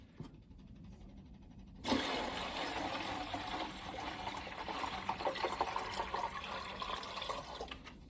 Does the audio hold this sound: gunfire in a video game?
no